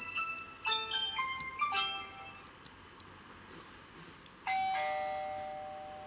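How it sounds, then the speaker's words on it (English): An old-fashioned doorbell chime from a Tapo smart home hub rings out as a sequence of bright, fading tones, then a pause, then a sustained ding that slowly decays, with no talking. "That's an old-fashioned doorbell"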